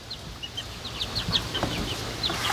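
Outdoor hen that escaped through a hole in the netting and roamed with peacocks, giving scattered short clucks and calls over a steady farmyard background, with occasional nearby bird calls.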